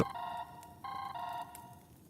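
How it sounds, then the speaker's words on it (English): A phone ringtone plays a quiet electronic melody of repeated bright tones in short bursts with brief gaps, alone and without talking. "That's not even like a good ringtone."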